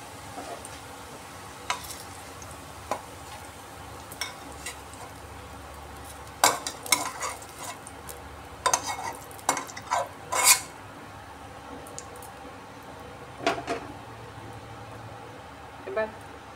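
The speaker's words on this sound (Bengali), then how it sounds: "এবার হলুদ মাখা আলুগুলো ভেজে নিচ্ছি।" Turmeric-coated potatoes fry in a pan for egg biryani, giving a soft steady sizzle punctuated by intermittent clinks and scrapes of a utensil against the pan.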